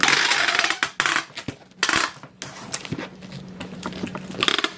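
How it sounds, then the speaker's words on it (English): Packing tape pulled and pressed onto a cardboard shipping box, with a run of crackly ripping bursts and soft taps close by, no talking. "Let's get this part taped up."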